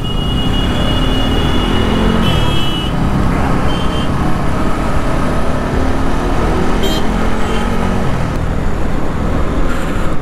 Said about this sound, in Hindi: तो देख रहे हो ट्रैफिक लग रहा है इसकी वजह से